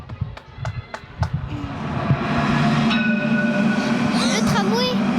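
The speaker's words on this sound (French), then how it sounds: "Le tramway. Le tramway." A tramway passes with a building rumble and metallic whine after a few thumps and scuffs, growing loud and steady, with brief squealing tones near the end and voices faintly present.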